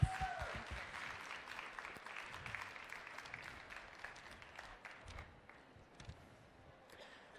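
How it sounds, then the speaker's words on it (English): An audience applauds a speaker taking the stage at a social entrepreneurship pitch event. The crowd's clapping starts full and gradually thins and fades over about seven seconds. "Please welcome Matt Dickson from Eggpreneur, and a round of applause."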